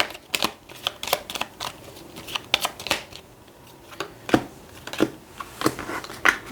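Tarot cards being shuffled by hand, a steady run of crisp riffling flicks and soft slaps close up, with no talking.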